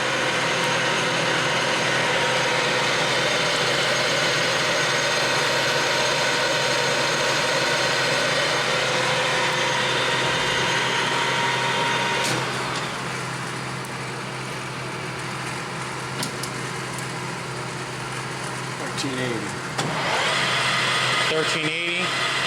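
A Clausing Colchester Master 2500 engine lathe runs at 1030 RPM, giving a loud, steady mechanical whine and hum that holds throughout, with a brief dip midway.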